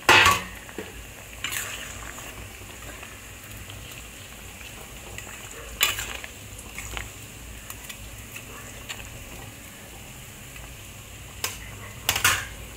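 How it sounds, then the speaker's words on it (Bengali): Fried rui fish pieces, heads first, are dropped into a simmering curry pot, giving a few sharp clinks and splashy sizzles spaced apart over a low, quiet bubbling background. "ভাজা মাছগুলো প্রথমে মাথাগুলো দিয়ে দিলাম"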